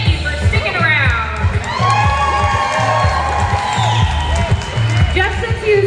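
A roller derby crowd cheers and shouts loudly and continuously, with whoops and scattered clapping under rhythmic arena music.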